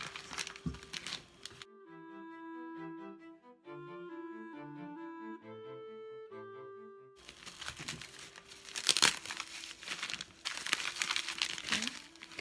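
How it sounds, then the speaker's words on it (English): Plastic wrapping crinkles and rustles loudly while a breakable item is packed for shipping, with bursts of crackling at the start and end; a tonal musical passage briefly replaces it in the middle. "so now I'm going to put it inside of this plastic."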